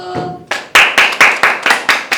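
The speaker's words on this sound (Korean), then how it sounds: "박수." A small group claps for a team leader, starting with a few scattered slaps before settling into about seven loud, sharp, evenly spaced claps in unison.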